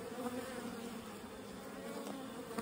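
A dense, steady buzzing of many bees at a hive fills the air at close range, a continuous drone without pauses or voices.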